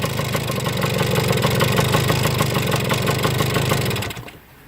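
A Suzuki TS125 motorcycle engine idles with a fast, steady chugging pulse, then cuts off near the end, leaving quiet.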